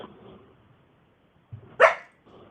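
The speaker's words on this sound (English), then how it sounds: "the dog barked and scared me" A dog gives a single sharp bark indoors, fairly close, preceded by faint low rumbling and followed by quiet background noise.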